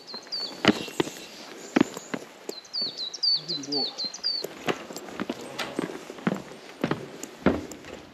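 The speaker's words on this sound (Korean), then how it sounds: "새소리 좋다." Small mountain birds chirp in quick bright trills at a distance, heard over irregular footsteps on a trail in Woraksan National Park.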